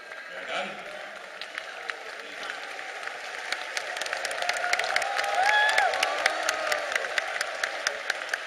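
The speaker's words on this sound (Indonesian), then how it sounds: "kita berikan tepuk tangan sekali lagi pada Khofifah" A political rally audience claps in scattered, crisp applause that swells midway and continues steadily, with faint crowd voices underneath.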